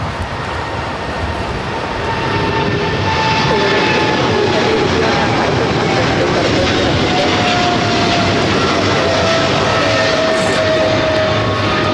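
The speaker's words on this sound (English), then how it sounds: "this Polar Air Cargo Flight 962 heading to Cincinnati, a 777 freighter" A Polar Air Cargo Boeing 777 freighter jet on Flight 962 to Cincinnati roars at Los Angeles International Airport, a loud broad engine rush that swells over the first few seconds and then holds steady with a slowly falling whine.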